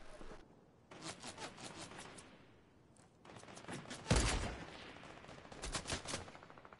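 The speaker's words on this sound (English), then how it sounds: "I've got people shooting me from behind now as well." Video-game gunfire comes from enemies behind the player, rapid bursts and volleys rising and falling in intensity across the clip, with a louder close barrage near the end.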